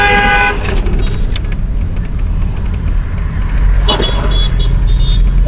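A car driving along a highway, its steady loud road and engine rumble joined by a short burst of horn honking near the end.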